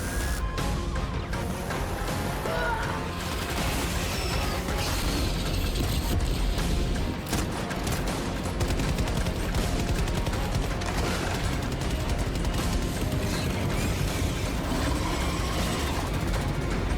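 Rapid, dense gunfire from a pump-action shotgun being racked and fired in the video game Helldivers 2, loud and nearly continuous with mechanical clacks mixed into the bursts.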